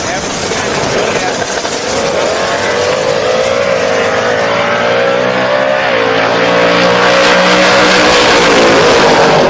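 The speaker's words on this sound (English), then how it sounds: "Cars on their way down the racetrack, having to move around their lanes a little bit." Drag race cars roar steadily down a drag strip, a loud sustained drone with rising pitch as the vehicles accelerate, continuous throughout.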